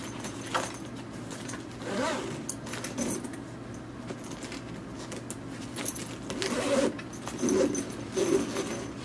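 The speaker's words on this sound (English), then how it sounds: "You open up the second zip." The zipper on a Dakine Mission Photo 25L backpack rasps in short, uneven pulls at close range, with small clicks and rattles of the bag between tugs.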